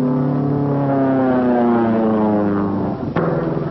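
A propeller-driven military aircraft of the WWII US Army Air Forces flies low, its engine drone steady and loud and pitched slightly downward as it passes, followed by a sharp crack near the end.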